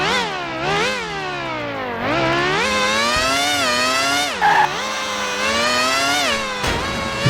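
An F1 race car in F-1 World Grand Prix II on Dreamcast screams through gears, its engine pitch climbing and dropping repeatedly as it accelerates and brakes, loud and close with a brief skid.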